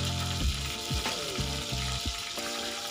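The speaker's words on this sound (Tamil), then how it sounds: "4 பச்சை மிளகாய் எடுத்திருக்கேன். அதை நல்லா அது கூட போட்டு நல்லா வதக்கி எடுத்துக்கலாம்." Green chillies sauté in hot oil in a pan for dry fruit pulao with cashews and almonds, a continuous close sizzle broken by several knocks and scrapes of the spatula, with no talking.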